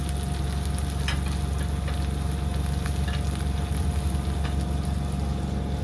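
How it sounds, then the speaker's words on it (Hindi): Stuffed bitter gourd filled with minced meat fries in a pan, a steady loud sizzle with faint crackles running throughout, no voices. "अब करते हैं इसको अच्छे से फ्राई।"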